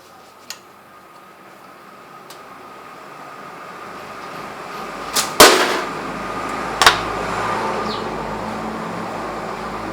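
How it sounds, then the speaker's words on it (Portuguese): A slingshot looses a flechette tipped with a stainless steel spoon, giving a sharp snap followed by a louder crack of impact and a second smaller hit, all over steady outdoor background noise with no talk. "Disparar esse aqui agora. Agora, ponteira feita com colher de inox."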